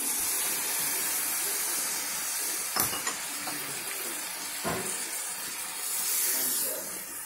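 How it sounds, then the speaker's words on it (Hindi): Homemade fresh tomato paste hits a pan of hot masala, giving a steady soft sizzle and hiss with a couple of brief stirring or splash bursts, fairly quiet and close. "अब हम इसमें अपना टमाटर जो पेस्ट बनाया था हमने, ये ऐड कर देते हैं।"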